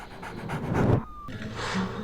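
A dog pants in quick, breathy rhythmic bursts, close and moderately loud, during a TV drama scene.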